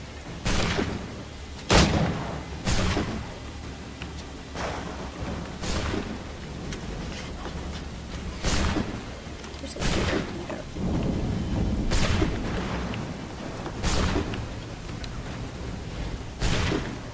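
Steady rain hisses throughout in Assassin's Creed 3, broken by repeated sharp thunder cracks and booms every couple of seconds, loud and close, with no voices.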